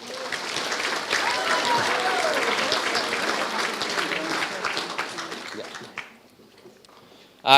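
A school prizegiving audience applauds award recipients in a sustained, dense round of clapping that lasts about six seconds before dying away into quiet.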